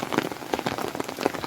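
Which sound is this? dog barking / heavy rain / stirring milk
heavy rain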